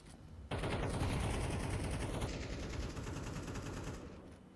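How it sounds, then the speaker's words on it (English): Rapid gunfire from a competitive PUBG-style esports match, loud bursts of automatic fire starting sharply after a brief quiet moment and continuing densely before easing slightly toward the end. "And Becky finding first shot already."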